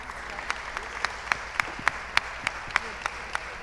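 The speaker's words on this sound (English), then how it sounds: "a round of applause for Tom" Audience applause at a festival feedback café, a steady wash of many hands clapping with a few sharper claps standing out at a regular pace, fairly close and filling the room with faint talk underneath.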